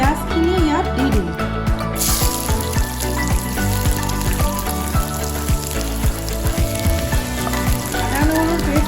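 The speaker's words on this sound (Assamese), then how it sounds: "তেল গৰম হৈছে, মই এতিয়া পিঁয়াজখিনি ইয়াত দি দিম।" Onions dropped into hot mustard oil in a heated wok set up a loud, steady sizzle with occasional clatter and stirring, filling the whole stretch close to the microphone.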